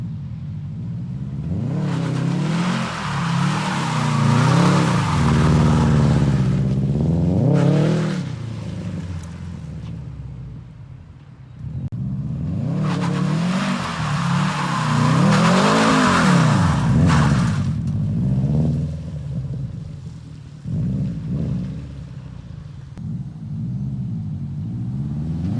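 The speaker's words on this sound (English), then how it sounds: "I saw those cars and locked up the brakes and then just clutch kicked out of it" Subaru STi drifting on a wet road, its engine revving hard in two long surging bursts with rising and falling pitch, loud and close, with tire noise and rumble between the pulls and no talking.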